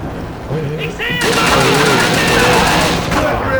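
Rapid gunfire in Call of Duty: Roads to Victory, a dense, loud stream of automatic shots starting after a short lead-in and continuing nearly unbroken, with a voice talking over it.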